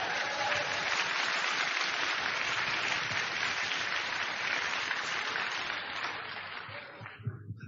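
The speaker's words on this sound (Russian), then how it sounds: "Дайте ей аплодисменты." Dense, steady audience applause fills a church sermon hall for several seconds, then thins and fades out, with a few scattered claps and a voice at the close.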